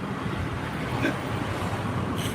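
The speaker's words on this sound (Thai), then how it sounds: "ลมแรงครับ ลมมาแล้วครับฝนน่าจะมาแล้วนะครับ" Strong wind blows in a steady, loud rush across the microphone ahead of a coming rainstorm, with a brief gust swelling near the end.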